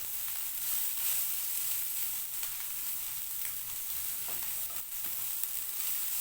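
Sandwich filling of meat and vegetables stirred and mixed in a frying pan, a steady soft sizzle with faint scraping stir strokes throughout, no voices.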